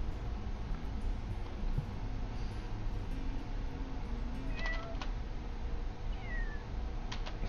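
Kittens in the Dwarf Fortress video game give a few faint, thin meows that rise out of a steady, dense game background, with no talking.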